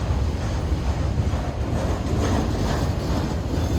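A Norfolk Southern intermodal freight train rolling overhead on the Hendrix Bridge, a steady, dense rumble and rail roar lasting throughout, close and loud with wind buffeting the microphone.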